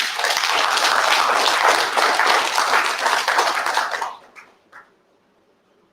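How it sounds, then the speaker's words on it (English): Audience at a Nigerian university registrars' association gathering clapping together, dense and sustained for about four seconds, then tapering into a few scattered last claps and quiet. "Can we have a clap for ourselves again?"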